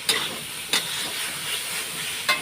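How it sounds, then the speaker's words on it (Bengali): Chickpea dal poured into a hot pan, a steady loud hiss of sizzling and steam with a few sharp spits breaking through, close up and without talk. "এখন আমি ছোলার ডালগুলো ঢেলে দেবো"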